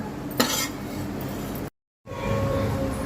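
Maida flour roasting in a pan on a gas stove, a soft continuous scraping and stirring with one louder clink of a utensil against the pan, interrupted by a short silent gap.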